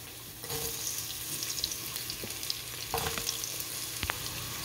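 Garlic and onion fry in oil with a steady, close sizzle and a few clinks of stirring on the pan. No one speaks.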